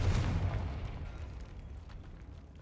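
A Confringo blasting spell explodes in the video game Hogwarts Legacy, a low burst at the start whose rumble decays over a couple of seconds, with faint crackles trailing after.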